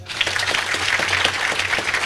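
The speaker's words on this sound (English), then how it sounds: "Applause." Loud applause from the audience at the official launch of the Tanzania Health Data Collaborative, a dense wash of many hands clapping continuously at close range with no talk over it.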